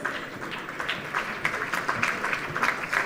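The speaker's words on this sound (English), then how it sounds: "Please join me in welcoming them both to the stage with a huge round of applause." Audience at a national leadership conclave applauding as two speakers are welcomed to the stage, a steady wash of clapping from a large crowd that holds at an even level throughout.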